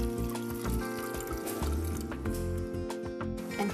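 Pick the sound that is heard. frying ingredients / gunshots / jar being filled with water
jar being filled with water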